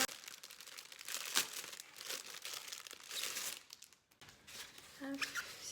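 Plastic packaging around a SHEIN makeup palette crinkles and tears close by as it is worked open, in bursts of rustling with a brief quiet gap and a little speech.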